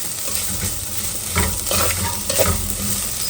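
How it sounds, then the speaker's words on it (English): Fish curry base sautéing in a delicate clay pot, a loud close sizzle with repeated stirring scrapes, steady throughout with a few stronger strokes. "let's saute it for about 3-4 minutes until it's well cooked"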